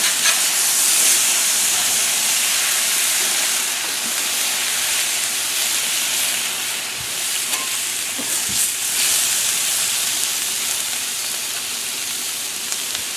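Goulash sizzling and hissing on a Blackstone griddle, a steady close frying crackle with occasional stirring scrapes, no talk.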